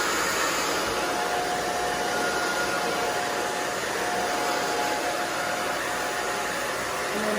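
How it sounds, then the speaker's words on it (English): A hair dryer blows steadily while drying hair in a salon, a constant loud whooshing hum with a faint high whine, running alone without pause. "I'm just drying straight down."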